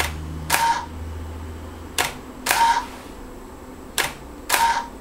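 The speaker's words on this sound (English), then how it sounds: "So now if I turn it on, you'll notice that it shoots, then moves." A camera shutter fires in sharp single clicks while a motorized camera dolly, driven by a Dynamic Perception MX2 controller in move-shoot mode, hums and whirs between shots in a repeating shoot-then-move rhythm.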